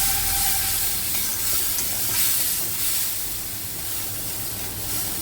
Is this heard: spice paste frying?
yes